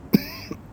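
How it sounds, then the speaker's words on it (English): A single sharp cough, close and fairly loud, followed by a softer second throat-clearing sound half a second later. "when that cough's annoying, isn't it?"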